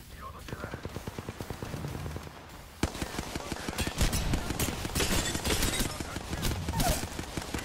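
Steady rapid-fire gunshots in Apex Legends rattle throughout, then denser and louder shooting takes over partway, with faint voices mixed in.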